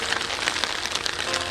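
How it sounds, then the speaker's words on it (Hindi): Steady rain of the first winter shower pattering densely on surfaces, a continuous hiss with scattered distinct drop taps, moderately loud and without voices. "दिसंबर का महीना और सर्दी की पहली बारिश"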